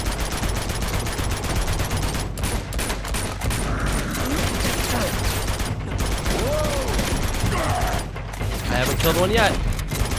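Rapid automatic gunfire rattles almost nonstop in the video game Uncharted 2: Among Thieves at the monastery, loud and close, with a player talking over the shooting.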